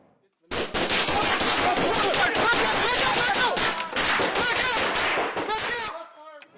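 Loud, sustained gunfire erupts during a police welfare check by sheriff's deputies, with dense rapid shots and crashing bursts for about five seconds at close range before cutting off abruptly.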